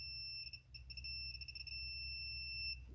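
Digital torque wrench attachment sounding its electronic alert, a thin high-pitched steady beeping tone that pulses briefly a few times, faint over low background hum.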